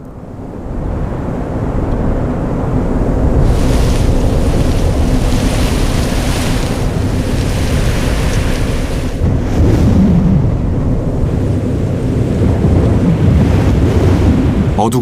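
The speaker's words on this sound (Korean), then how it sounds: "구름이 빠르게 이동하면 습기를 머금은 바람이 불기 시작합니다." Wind begins to blow steadily as storm clouds move in over dry open plains, a loud, continuous rushing roar with gusty buffeting against the microphone and no voices.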